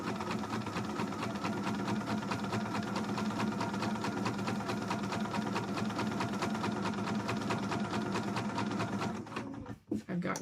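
Sewing machine stitching cosplay fabric with a steady rapid mechanical rattle that runs almost continuously, then cuts off abruptly near the end, leaving a brief quiet pause with small handling noises.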